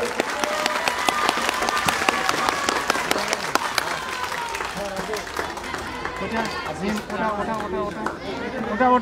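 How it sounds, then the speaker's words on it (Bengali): Applause from the audience at a madrasa's annual sports and cultural event, sharp claps and crowd chatter filling the space, with voices and shuffling mixed in as the clapping gradually thins. "এই মুহূর্তটাকে আমরা স্মরণীয় করে রাখতে চাই করতালি দিয়ে"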